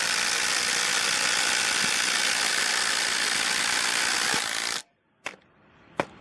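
Masterforce and Ryobi brushless impact drivers drive screws in a head-to-head comparison, a loud continuous buzzing whir for about four and a half seconds that cuts off abruptly, followed by a few sharp clicks in near silence.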